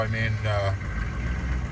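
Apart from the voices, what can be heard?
1998 GMC K2500 diesel engine idling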